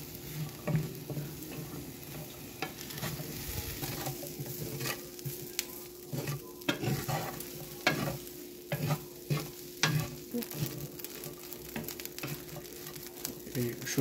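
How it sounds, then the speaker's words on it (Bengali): Dried fish (shutki) dry-frying with garlic and chili in a pan without oil gives a soft, continuous sizzle, and a spoon or spatula stirs and scrapes against the pan in frequent irregular taps up close. "এই শুটকি এবং রসুন এবং মরিচটাকে ভালো করে ভেজে নিতে হবে"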